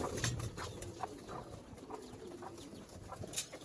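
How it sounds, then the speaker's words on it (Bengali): Pigeons and young pigeon chicks in a tin-roofed loft, giving soft, repeated low coos at close range over quiet background, with scattered faint rustles and no talking. "এই কবুতরগুলা বাচ্চাগুলো একটু দেখাই"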